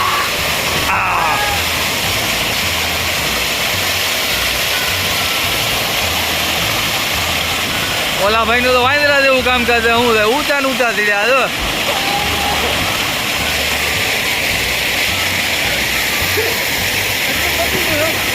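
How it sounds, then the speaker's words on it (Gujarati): Waterfall at Kileshwar temple, a loud, steady rushing roar of falling water that fills the whole clip, with people talking over it. "જોઈ શકો છો મિત્રો વોટરફોલનો"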